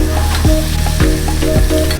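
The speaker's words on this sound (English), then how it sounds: "We're just toasting the bread." Bread toasts on a hot griddle with a steady, close, loud sizzle and crackle that continues without a break.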